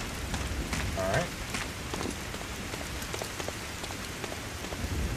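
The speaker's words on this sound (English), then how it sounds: "Man, this level is quiet, no music, just rain." Steady rain falls in a quiet Berlin level of Medal of Honor: Spearhead, a continuous hiss of drops on surfaces with no music, holding an even, moderate level throughout.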